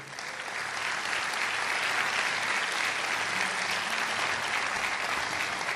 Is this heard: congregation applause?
yes